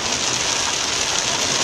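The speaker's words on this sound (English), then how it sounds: "It's real heavy rain." Heavy rain falling outside a closed store on New Year's Day, a dense, steady, loud hiss with no breaks and no talking.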